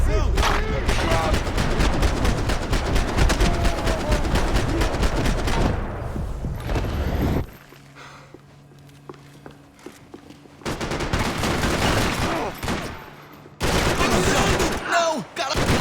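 Rapid machine-gun fire and dense gunshots from the video game Max Payne 3, loud and close, broken by a short quieter stretch with shouting voices before the shooting resumes.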